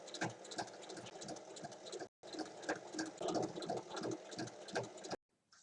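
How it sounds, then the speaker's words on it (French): A sewing machine stitches along the folded hem of a striped fabric bag, a close, rapid mechanical whirring in two bursts separated by a brief pause, ending with a short quiet stop. "Je viens piquer en bas le long du repli et je fais une piqûre de séparation au milieu."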